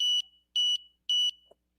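Three evenly spaced, shrill electronic beeps from an Arduino alarm buzzer, each lasting about a fifth of a second, clean and close against near silence.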